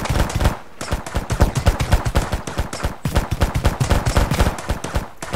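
A gun firing in the Mist Survival game, a fast unbroken string of sharp, loud shots in steady rhythm, like automatic fire running through the whole stretch.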